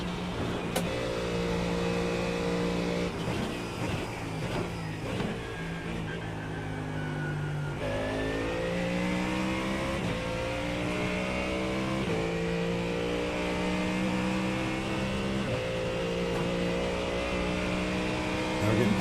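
GT3 Mustang engine in iRacing at the Nürburgring, steady loud revving with repeated upshifts and rising pitch sweeps, while someone talks over it.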